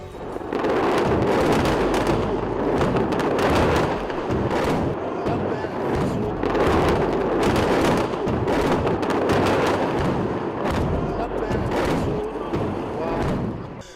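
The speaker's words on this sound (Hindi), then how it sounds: "हिजबुल्लाह ने रॉकेटों का जत्था फायर किया" Hezbollah rocket fire on northern Israel, a dense, continuous roar of blasts and rumbling booms that stays loud throughout with little pause.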